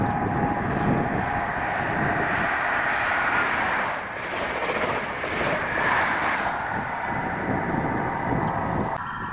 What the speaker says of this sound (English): 1T34 1635 ScotRail service to Glasgow Queen Street from Aberdeen with 43032 and